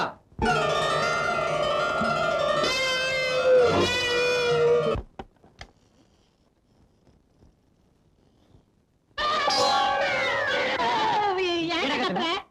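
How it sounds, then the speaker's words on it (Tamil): A cat inside a house gives long, loud, drawn-out meows in a comedy scene, first a few seconds of wailing, then a quiet pause, then another loud yowling meow. "பூனை பின்ன இந்த வீட்டுக்குள்ள யானையா வரும்?"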